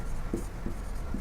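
A pen scratches on paper in a few short strokes, close and quiet.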